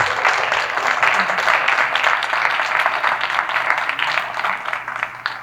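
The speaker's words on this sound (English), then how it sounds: "let's get a round of applause for our presenter" Audience applause closing a presentation at the Oh Freedom exhibit event, a steady wash of many hands clapping at fairly loud level throughout, with faint voices mixed underneath.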